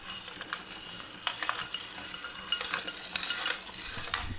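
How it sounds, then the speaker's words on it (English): A homemade tumbler machine built by a machinist clunks and rattles steadily in the background, with irregular metallic knocks and clatter repeating through the stretch at moderate level, no voices heard. "I'm sure you can hear that clunking in the background."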